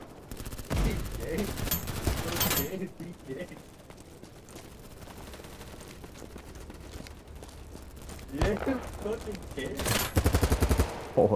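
Automatic gunfire crackles in BattleBit Remastered in loud rapid bursts at the start and again near the end, with quieter game ambience between and someone talking over it.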